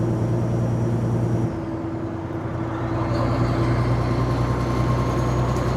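A truck with an Eaton Fuller manual transmission using its Jake brake on the highway, a loud, steady, throbbing low engine drone under road and cab noise that shifts partway through, then carries on.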